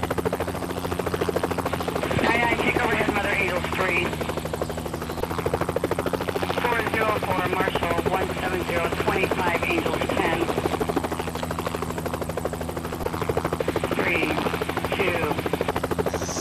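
A rescue helicopter in the game Rettungshubschrauber 2013 drones loudly and steadily, its rotor hum constant throughout while someone talks over it.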